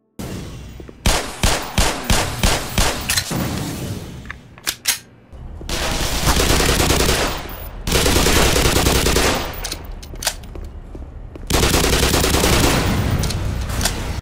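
Weapons firing in Black Mesa: a quick run of sharp single shots gives way to long, loud automatic bursts, separated by brief pauses and heavy crashing impacts.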